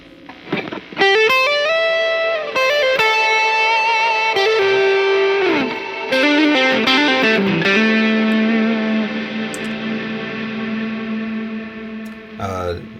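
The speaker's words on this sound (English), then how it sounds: "Here's another reverb." Electric guitar played through a reverb pedal alongside overdrive, ringing sustained chords and single notes with long washy tails, loud and continuous for about twelve seconds and ending with a short burst of fresh notes.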